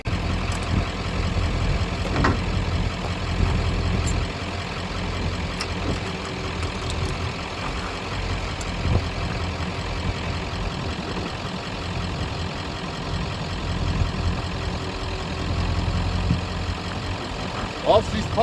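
A cheap slip tank transfer pump runs steadily beside an idling truck, its hum blending into the continuous low diesel drone, with occasional clanks and a voice talking over it.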